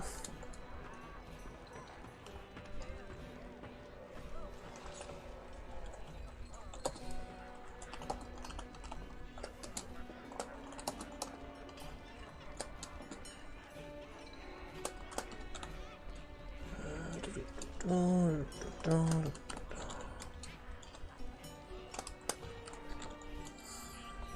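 Rapid keystrokes on a computer keyboard patter in uneven bursts beneath a busy background, with a brief tonal sound near the end and fairly close, moderate loudness.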